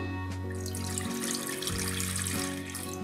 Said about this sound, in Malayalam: ഇതിലേക്ക് ഞാൻ കുറച്ച് വെള്ളം ഒന്ന് ഒഴിച്ചു കൊടുക്കുവാണേ